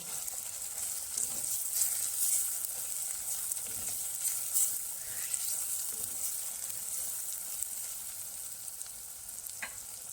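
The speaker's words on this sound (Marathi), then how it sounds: "हे सर्व मसाले घालून ही ग्रेव्ही छान एकजीव करून घेऊ" A spiced onion-tomato gravy with chilli powder, turmeric and garam masala fries in oil for prawn biryani, giving a steady close sizzle broken by periodic stirring scrapes of a spoon against the pan, no voices.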